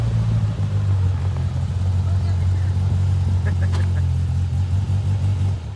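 A 2026 Pro R off-road vehicle reversing into position for loading, its engine holding a steady, loud low drone close up from start to finish.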